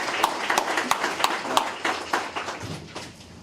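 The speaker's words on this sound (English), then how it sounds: "Can I get another round of applause?" Audience applause at a university workforce development center celebration, a series of sharp separate claps rather than a dense roar, fading slightly toward the end.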